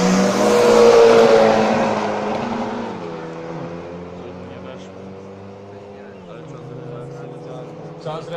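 A Volkswagen Scirocco and an Opel race down a quarter-mile drag strip, with loud engines roaring and revving at the start and then fading as the cars pull away into the distance.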